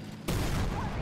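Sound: tank gunshot in video game Armored Warfare

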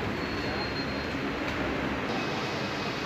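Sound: train departing Saharanpur railway station

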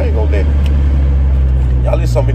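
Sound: traffic of cars on a road

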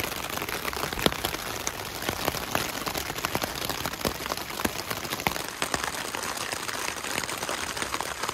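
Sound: rain falling at night on a backpacking trip

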